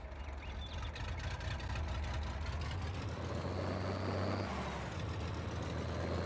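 Low, steady rumble of a tractor engine idling in Farming Simulator 22, running continuously at moderate level with some faint higher mechanical clatter, with no talk over it.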